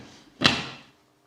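A lid set onto a pot of Szeged goulash in a kitchen, a single sharp clack with a brief ringing tail that fades within half a second, close and fairly quiet against a still room.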